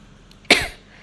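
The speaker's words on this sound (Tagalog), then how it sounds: "Ay, naku, inuubo ako." A single sharp cough bursts out indoors at home, close and fairly loud, then trails off quickly into quiet background.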